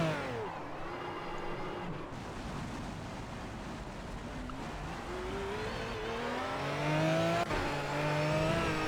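Aston Martin Vantage V12 GT3 racing at Monza in the game Project CARS, its engine whining and rising through the gears with shifts and a steady rushing roar of speed.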